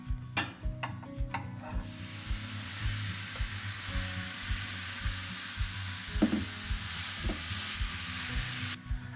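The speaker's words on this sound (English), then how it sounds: "I'm gonna let this cook for 3 to 4 minutes before I even flip and start to move around the venison" Venison chorizo fries in a cast iron skillet with a steady, loud, close sizzle that holds throughout, broken by a few scraping stirs and taps near the start and middle.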